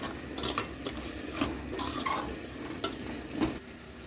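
Soya chunk curry masala being stirred in a pan, with soft scraping strokes and occasional utensil taps against the metal over a low frying sizzle, at close range.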